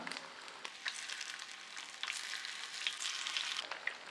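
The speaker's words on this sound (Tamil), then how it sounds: "இப்போ மீனை திருப்பி போட்டுக்கலாம்" Fish frying in oil over a medium flame, a steady close sizzle with a few clicks and a brief scrape partway through as the pieces are turned, continuing alone without talk.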